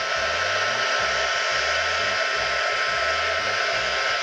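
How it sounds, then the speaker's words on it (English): A heat gun blows steadily over watercolour card, a continuous loud rushing hiss with a low motor hum pulsing faintly underneath, alone and unbroken throughout. "So the heat gun's pretty hot already."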